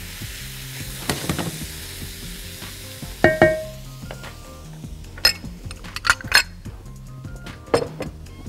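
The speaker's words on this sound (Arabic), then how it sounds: "نقلب بسرعه عشان ايه الثوم ما يتحرقش" Garlic, dried basil, chili flakes and oregano sizzle in a pan while a utensil stirs them quickly, giving several sharp metallic clinks against the pan over a steady frying hiss.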